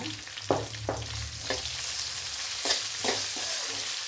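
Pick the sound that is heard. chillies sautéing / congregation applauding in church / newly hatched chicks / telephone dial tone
chillies sautéing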